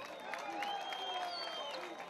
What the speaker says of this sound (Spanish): ¡Aplausos para estos chamacos!